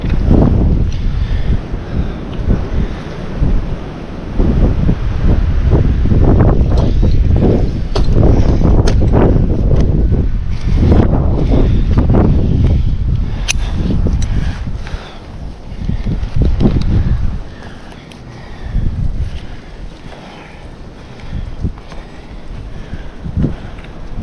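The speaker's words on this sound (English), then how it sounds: "now we're gonna get windy up here" Gusty wind blowing high up in a tree during a storm, steady and loud for most of the stretch with rumbling buffeting, easing and dropping off toward the end; no talking.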